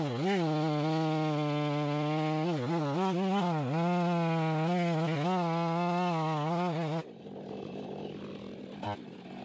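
A chainsaw cuts low into a huge tree stump, its steady high engine drone rising and dipping under load for about seven seconds before it cuts off, leaving quieter rough noise.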